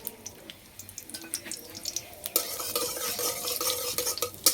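Whole cumin seeds and dried red chillies frying in two spoons of white oil in a kadai, with scattered crackles and stirring scrapes that swell into a denser, louder sizzle partway through.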